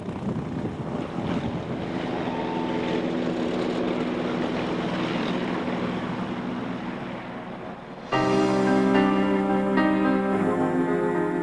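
Steady broad roar of an aircraft flying over Glacier Bay National Park, continuous and fairly loud with rushing wind, shifting abruptly to a brighter tonal engine drone near the end.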